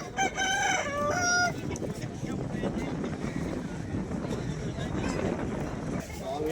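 A native rooster crows once, loud and close, at a busy Sunday poultry market in Vijayawada, then market chatter and crowd noise carry on beneath, with another faint crow starting at the end.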